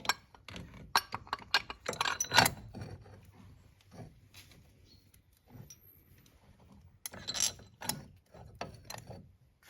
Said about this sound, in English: Now we've got to push the bearing through with my new tool.